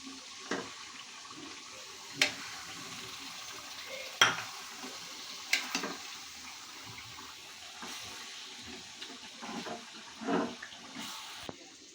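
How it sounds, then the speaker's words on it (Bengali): Chicken pieces are stirred as they fry in a pan for a Bengali chicken and greens dish, a faint low sizzle broken by occasional scrapes and clinks of the spoon against the pan, no talking. "এবার মাংসগুলো দিয়ে ভালোভাবে চুনে নেব এবার নেড়ে নিব"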